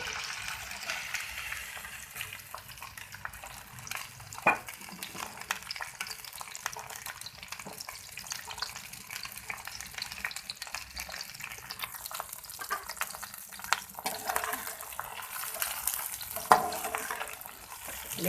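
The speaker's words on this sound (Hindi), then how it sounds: "अब हम इसमें डालेंगे भिंडी। भिंडी को फ्राई करेंगे।" Okra frying in hot oil in a home kitchen, a faint continuous sizzle with scattered pops and crackles, plus occasional clinks of stirring and what sounds like running water in the background.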